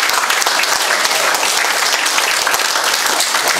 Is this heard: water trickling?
no